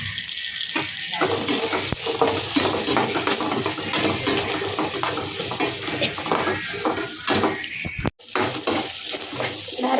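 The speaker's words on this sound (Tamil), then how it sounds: "நான் 2 வெங்காயம் பெருசாக தான் கட் பண்ணி வதக்குறேன்." Large-cut onions with ginger and garlic sauté in a kadai, giving a dense, steady sizzling hiss with occasional stirring scrapes and a brief dropout near the end; no speech.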